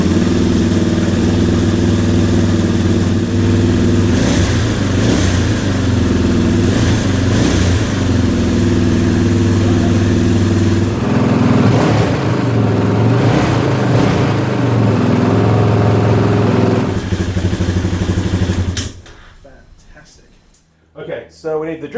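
A 2006 KTM 640 LC4 single-cylinder motorcycle engine runs loudly and steadily with choke on, with a few revs rising and falling, before cutting off near the end; people talk over it.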